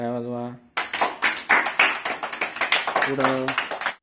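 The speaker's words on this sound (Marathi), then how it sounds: "टाळ्या वाजवा" Children clap their hands during a group game, a quick run of about a dozen sharp, close claps after an adult voice, with the voice returning near the end.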